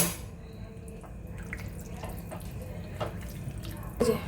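Pasta cooking water is poured into a pan in a home kitchen, giving a soft, low liquid splash with a few dripping taps and a brief louder splash near the end.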